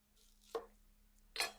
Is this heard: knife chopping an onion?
yes